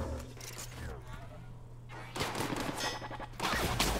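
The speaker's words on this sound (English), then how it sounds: "Are they shooting each other? Yeah, they're shooting her." Gunfire crackles in The Outer Worlds, bursts of rapid shots rising in two louder volleys over a steady low drone, with a voice talking through the shooting.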